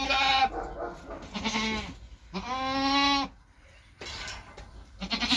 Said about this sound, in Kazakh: Бірінші тума іздеп жүр маңырап.